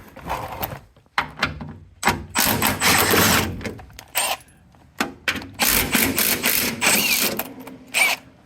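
A socket wrench ratchets repeatedly while skid plate bolts are removed from a Kubota X900 RTV, with rapid clicking bursts separated by brief pauses and occasional metallic clunks, close and loud.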